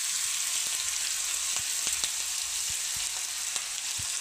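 Ginger, garlic and chili paste sautéing in hot oil with popping mustard seeds and cumin, a bright continuous sizzle broken by sharp crackles and spits, close and without speech.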